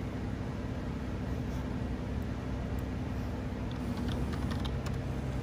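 A login is typed on a computer keyboard at a lab instrument workstation, with quiet, rapid key clicks heard close over a constant hum of equipment and room noise.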